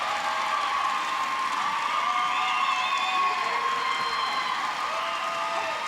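A large arena crowd cheers and applauds after Team Edge's strong-performance routine at a 2012 invitational, a steady loud roar of voices sustained throughout.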